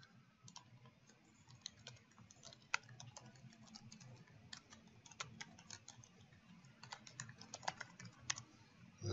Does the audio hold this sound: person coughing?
no